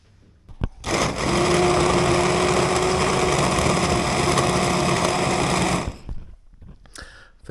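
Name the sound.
immersion blender mixing chestnut jam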